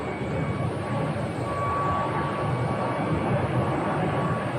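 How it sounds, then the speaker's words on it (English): An old Arizona National Guard KC-135 tanker aircraft near Phoenix: a steady, broadband engine roar heard from a distance outdoors, constant and unbroken throughout with no talk. "And right there is one of our Arizona National Guard KC-135s."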